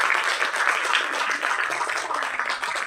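A crowd at a movie audio launch event breaks into loud, sustained applause, thick clapping filling the hall from start to finish.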